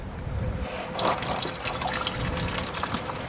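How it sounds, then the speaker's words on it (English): Motor oil draining from a loosened oil filter on a 2004-2009 Toyota Prius, heard as a steady, close liquid trickle and spatter that runs throughout. "Be prepared for the oil to drain down your arm."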